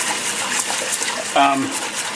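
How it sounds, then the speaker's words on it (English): Cold water sloshes and splashes as something is washed around by hand, a steady running, gushing wash with a brief voiced sound near the end. "I wash them around with my hand, and real clean like that, and a little bit cold water"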